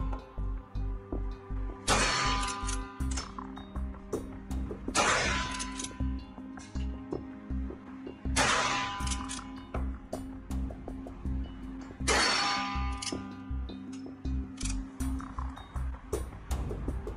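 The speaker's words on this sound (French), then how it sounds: "Tir sur gong avec point rouge." Rossi R92 Triple Black lever-action rifle fired at a steel gong, four loud cracking shots spaced about three seconds apart, each followed by a ringing metallic ping, with steady clicking or ticking in the background.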